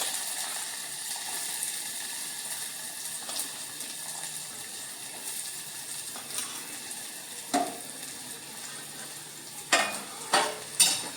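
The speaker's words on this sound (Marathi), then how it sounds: "आता आपण मिरची, त्याच्यानंतर आपण एक चिरून घेतलेला बारीक कांदा तो तेलावर घालूया." Chopped onion and green chillies fry in hot oil, a soft steady sizzle with scattered stirring scrapes that build into several louder knocks and clatters toward the end, no one speaking.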